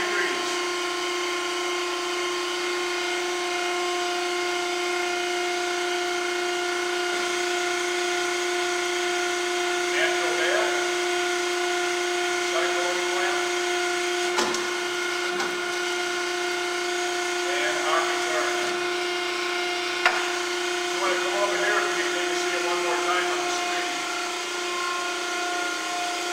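A Pines ENC 075 programmable mandrel tube bending machine bending a 3-inch tube hums with a steady hydraulic drone, overlaid by intermittent clanks and mechanical shifts as the bend proceeds.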